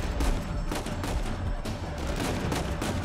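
Gunfire rattles in the video game Uncharted as rapid, repeated shots in a dense, continuous exchange at moderate loudness.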